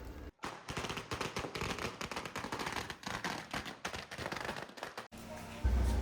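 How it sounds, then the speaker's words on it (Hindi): Rapid crackling bursts of firecrackers at a Muslim wedding in West Uttar Pradesh pop in dense, irregular volleys, loud and close, with a brief pause near the end. "घर पहुंचने के बाद थोड़ी सी आतिशबाजी"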